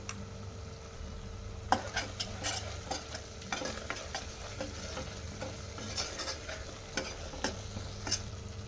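Masala paste for a Telangana fish curry fries in a pan under a steady low sizzle, with repeated scraping and clicking stirring strokes throughout.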